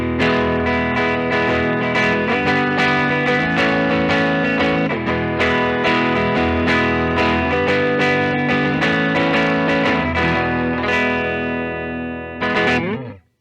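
A 2021 Epiphone Casino hollow-body electric guitar plays chords that ring out continuously with effects and distortion, a full sustained tone that cuts off abruptly near the end.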